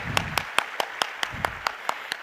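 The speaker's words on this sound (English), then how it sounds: "Huge round of applause, come on guys." Applause at an OCLF knowledge series talk, heard as a sparse run of about ten distinct claps spaced at a steady pace, fairly faint in a quiet hall with a few murmurs underneath.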